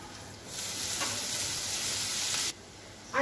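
Cowpea leaves (chavli bhaji) stirred and fried in a little oil in an open pan, giving a loud, even, close hiss of sizzling that stops abruptly near the end.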